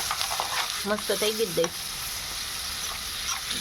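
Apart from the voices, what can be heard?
curd tempering sizzling in pan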